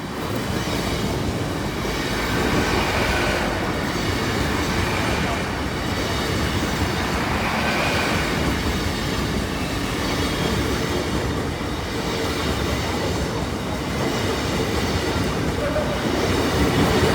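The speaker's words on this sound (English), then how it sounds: "Train's approaching. This should be one of the first diverted 10-car sets." A diverted 10-car passenger train approaches on a main line at a city station: a continuous, loud rumble of wheels and engine that builds steadily throughout, with faint rhythmic rail clatter and no voices.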